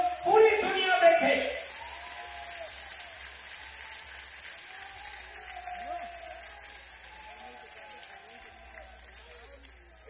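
An audience at a Sanatan religious gathering breaks into applause. It is loud and dense for about a second and a half, then thins into quieter scattered clapping and crowd murmur.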